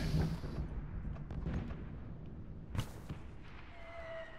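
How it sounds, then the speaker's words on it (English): Cannon fire booms in the Enlisted video game, with one sharp, prominent blast standing out against a rumbling battlefield backdrop of distant explosions. "Goddamn cannons."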